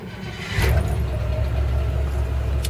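An old carbureted car engine cranks and fires right up at about half a second, then settles into a steady, loud, close rumbling idle that continues to the end.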